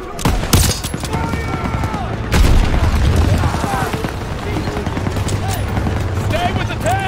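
MG42 machine gun fire rattles in Call of Duty: WWII battle, with dense rapid bursts and booming blasts over a continuous combat din, loud and close, with shouted voices in the mix.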